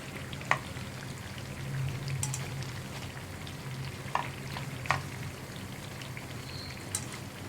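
Broken wheat unniyappam frying in hot oil, a steady soft crackling hiss throughout with a few sharper pops and spits standing out, fairly quiet and close.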